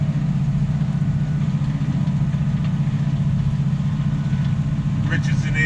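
A New Holland T7 tractor engine pulls a plough through wet, slippery muck, heard from the cab as a loud, steady low drone with an even, continuous tone and a short rattle near the end.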